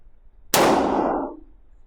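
A Hi Point JXP 10mm pistol fires a single sharp, loud shot close by, and the report decays over about a second against quiet surroundings.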